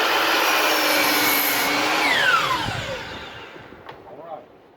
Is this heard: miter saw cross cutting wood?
yes